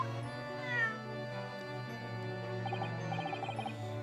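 A cat from The Great Ace Attorney gives a single short, clear meow near the start, then a soft electronic chime pattern plays over a quiet musical background.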